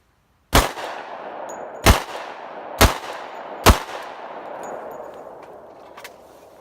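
Glock 29 Gen 4 pistol fired outdoors in snow, four loud, sharp shots at irregular intervals of about a second, each with a long ringing echo that fades into quiet.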